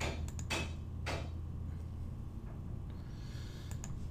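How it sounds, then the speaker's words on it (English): Workers hammering outside a room, a few sharp knocks early on then fading into a steady low background hum, distant and moderately loud, with no talk. "They're out there sawing and hammering away today."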